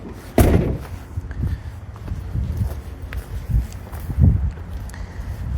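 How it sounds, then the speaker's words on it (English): A truck's driver-side door is opened with a sharp metallic slam-like clunk near the start, followed by thumps, footsteps and shuffling as someone climbs out, then another heavy thud near the end. "So now I'm opening the driver's side door."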